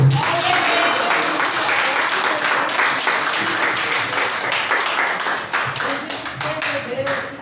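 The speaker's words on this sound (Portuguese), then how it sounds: "as palmas louvam o nome do Senhor" A church congregation claps in praise during a worship service, dense steady clapping sustained throughout with voices and music mixed underneath.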